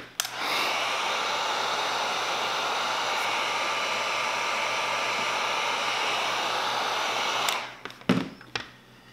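A heat gun blows steadily on a plastic RC car chassis skin for an ARRMA Infraction, Limitless or Felony, giving a loud continuous rushing hiss for about seven seconds, then cutting off into a few handling knocks.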